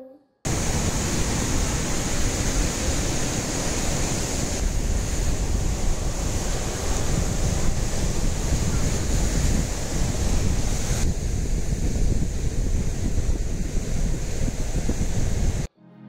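Large waves crash and wash at Chilika, a dense, unbroken surf roar that holds loud for the full length, mixed with wind rumble on the microphone and no talking.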